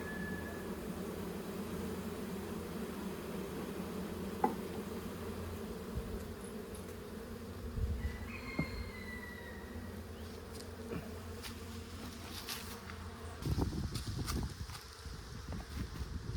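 Quiet, steady buzzing of many honey bees close by in an opened hive during inspection, a low drone with a few individual insects passing nearer, plus occasional light knocks and rustles.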